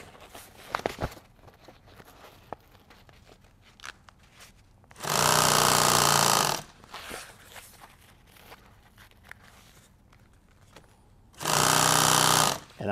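Two bursts of a sewing machine running fast, each a loud steady whirring hum of about one to two seconds, stitching heavy tactical apron fabric up close, separated by quieter handling of cloth and small clicks.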